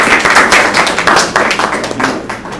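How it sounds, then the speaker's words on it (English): Applause from a school audience at a trash collection and education program: a short burst of many hands clapping, close and fairly loud, irregular and uneven, with no speech over it. "We got applause then."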